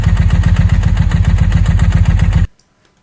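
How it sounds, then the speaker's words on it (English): A Ducati 748 motorcycle idles close by with a loud, lumpy, rhythmic thumping beat, then cuts off abruptly into near silence. "So the bike does idle."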